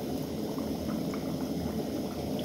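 Maandazi dough fries in hot oil with a steady, dense bubbling sizzle, a continuous crackling hiss at moderate loudness with no voices.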